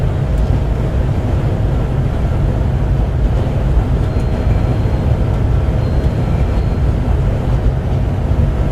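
A Class 390 Pendolino train in Train Simulator 2015 braking for a speed reduction, a steady low rumble of running gear and rolling noise with no talk.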